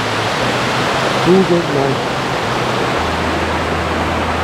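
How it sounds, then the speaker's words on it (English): Hidlumane waterfall on a forest trek pours as a steady broadband roar, close and continuous for the whole stretch, while someone speaks briefly over the rushing water. "Look at the waterfall. It's amazing. Sound of the waters."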